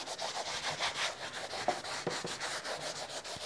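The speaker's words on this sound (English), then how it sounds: "I'm just rubbing that in." Rhythmic rubbing over a DIY watercolour sketchbook cover: steady, close back-and-forth strokes with a dry scratchy texture and a few small taps, no voice.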